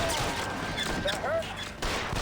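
Gunshots in L.A. Noire: a rapid burst of shots fired close and loud over continuous game noise, with a voice talking underneath.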